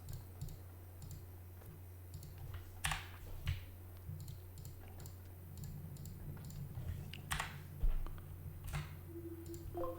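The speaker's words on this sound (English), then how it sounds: "I'm gonna hit delete on my keyboard to delete all those bricks" Computer keyboard keys pressed during a block-building game session, with scattered quiet clicks and taps spread over ten seconds and no talking.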